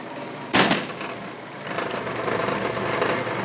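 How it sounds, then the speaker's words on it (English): A Strapex semi-automatic tabletop strapping machine feeds strap around a box, starting with a sharp mechanical clack followed by a continuous whirring, buzzing feed. "Take the strap, fold it over the box, load it in, and it automatically feeds it."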